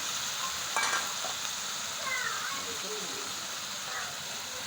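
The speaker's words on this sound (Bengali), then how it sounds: "এবার আলুটা ভেজে নেব" Potatoes fry in a pan with radhuni spice paste, a soft continuous sizzle with a few stirring scrapes, faint and close.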